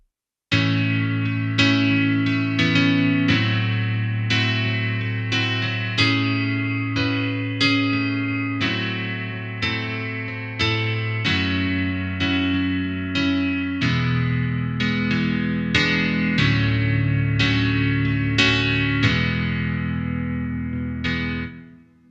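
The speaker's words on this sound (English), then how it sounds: "Convolution reverb at the end could be a great addition to the sound" A CP-70-style electric piano plays a steady chordal pattern with repeated struck notes, bathed in a lush, spacious convolution reverb tail that rings out at the end.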